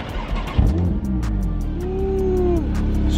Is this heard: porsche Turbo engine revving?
yes